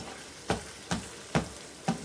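Sausage fries in a pan with a soft steady sizzle, broken by four sharp utensil knocks about every half second as it is chopped into small pieces.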